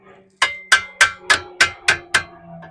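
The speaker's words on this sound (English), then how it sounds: "Now, this hammer is where it comes in handy." Seven quick, bright hammer taps on a rear disc brake part of a 2002-2007 Chrysler Town and Country, evenly paced and close, each with a short metallic ring, then a brief quiet.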